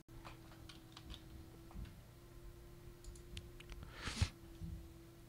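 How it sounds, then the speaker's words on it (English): A password is typed on a computer keyboard, scattered light key clicks and taps heard faintly over a low electrical hum, with one sharper knock near the end. "while I type in my password"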